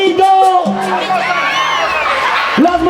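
A festival crowd answers a call with a loud, sustained burst of shouting, whooping and cheering that fills the whole moment, with a single voice rising clearly above the mass.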